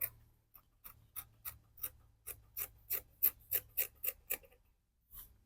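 Scissors snip steadily through dress fabric, trimming the extra waistline allowance of an A-line dress: about a dozen crisp, close cuts in a quickening rhythm, each a short rasping crunch, with a pause before a final snip.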